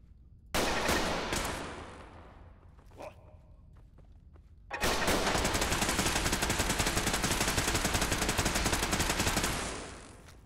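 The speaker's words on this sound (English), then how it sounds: "Is that a turret? Oh, it is too." Automatic turret in Fallout 4 firing long sustained bursts: a loud rattling volley for about two seconds, a short lull with scattered hits, then several seconds of continuous rapid fire before it tapers off, with no talking.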